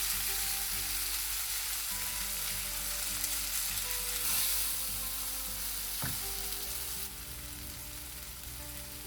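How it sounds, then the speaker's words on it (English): Roasted brinjal, chopped, sizzles steadily in a pan of masala while being mashed and mixed. The frying hiss is continuous and close, with one brief scrape partway through and a slight drop in level near the end. "Now add the chopped brinjal to this masala and mash it while mixing."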